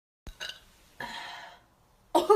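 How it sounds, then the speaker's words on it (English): A single loud burp from a person bursts out at close range after a couple of short throat sounds and a pause, rough and sustained for about half a second before a final harsh belch. "That was the loudest burp, and I just got it on camera."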